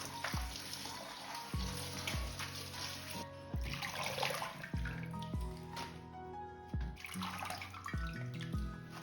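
Fresh spinach being washed by hand in a pot of water in a home kitchen before cooking palak paneer, with steady splashing and sloshing plus scattered drips and small knocks, close and moderately loud, no talking.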